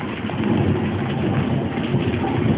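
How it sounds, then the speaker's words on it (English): Steady rain falls during a summer thunderstorm, a dense, even hiss of drops that carries on without a break and with no voices. "It's turning into a sun shower."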